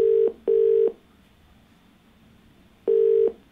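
A telephone line gives three loud, steady electronic tones as a call connects to a caller on a television phone-in show, with two close together and a third after a pause.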